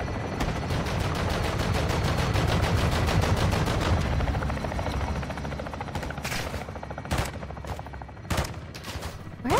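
Sustained rapid automatic gunfire in Call of Duty: Modern Warfare II, a dense rattling burst for several seconds, then separate sharp single shots and short bursts, loud and near.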